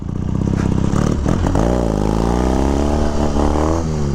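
A 1976 Triumph T140V Bonneville 750 motorcycle engine revs loud and close, climbing and falling in pitch through several throttle blips with some mechanical clatter.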